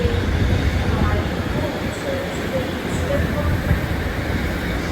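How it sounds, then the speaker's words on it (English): Class 150 and 156 trains depart Stockport for Manchester Piccadilly with a steady low rumble under general station noise, a few faint tones and squeals on top. "Train now departing is a 150 and 156 going to Manchester Piccadilly"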